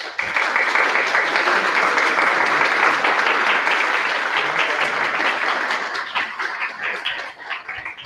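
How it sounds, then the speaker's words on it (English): Sustained audience applause for students at a university debate in Banska Bystrica, a dense, loud wash of many hands clapping that holds steady for several seconds before thinning out near the end. "I think that the students here deserve a round of applause"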